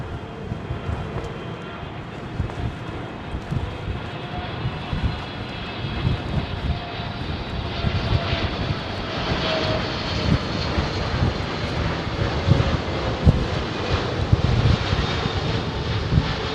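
A Qatar Airways Boeing 777 lands, its jet engines giving a steady, rumbling roar that builds gradually and stays fairly distant, heard alone without voices.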